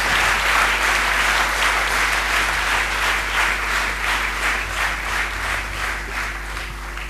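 Thunderous applause from an audience at a talk, a dense, steady wall of clapping that stays loud and close throughout with a low hum underneath.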